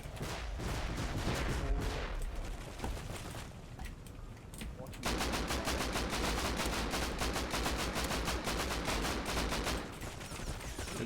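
Rapid gunfire and rocket blasts from a patrol helicopter attack in the game Rust, dense continuous bursts of shots and explosions that briefly thin out before resuming at full intensity.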